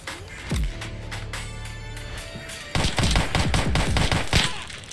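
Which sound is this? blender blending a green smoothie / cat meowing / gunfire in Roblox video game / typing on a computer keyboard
gunfire in Roblox video game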